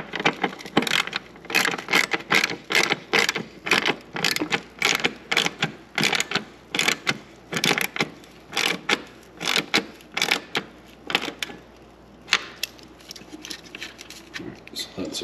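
A bracket screw is tightened for a hidden ARB air compressor on a Jeep JL Wrangler or JT Gladiator, giving close, brisk bursts of ratcheting clicks repeated in a steady rhythm with short pauses between strokes.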